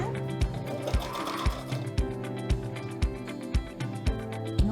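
A sewing machine stitches a small multipurpose fabric bag in short, rhythmic bursts of needle thumps, steady and close, with a brief reverse-stitch run and no talk.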